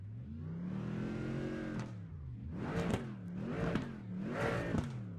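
Mercedes AMG GT4 engine in the iRacing sim, one long smooth rising rev followed by three sharp throttle blips that climb and fall, clear and close with no talk.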